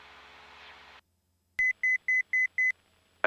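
A soft hum cuts out, then five short evenly spaced electronic beeps sound in quick succession, clear and fairly loud, followed by a brief burst of noise: an altitude alert in a Cessna 172 with G1000 avionics, signalling 1,000 feet from target altitude.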